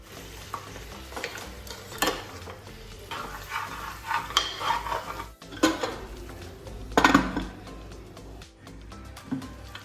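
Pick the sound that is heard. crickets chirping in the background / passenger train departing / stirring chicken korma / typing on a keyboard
stirring chicken korma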